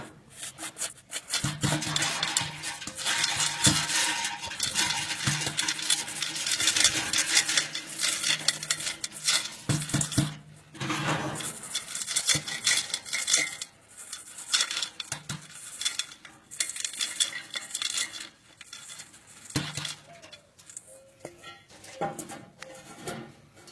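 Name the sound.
wood pellets poured into an A-MAZE-N smoke maze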